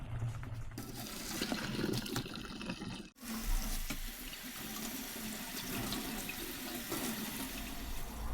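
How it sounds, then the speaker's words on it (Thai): Blanched rice noodles rinsed under a running kitchen tap, a steady close rush of water splashing into a sink with a brief dip partway through, then continuing without pause. "ล้างเอาน้ำแป้งของเขาออกนะคะ เส้นจะได้ไม่เหนียวติดกันเนาะ"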